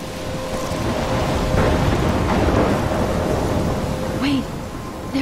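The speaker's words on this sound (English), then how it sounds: "I'm trapped in a storm." Thunderstorm with steady heavy rain in the video game Life is Strange, a continuous rushing wash of rain with rolling thunder swelling through the middle, no voices over it.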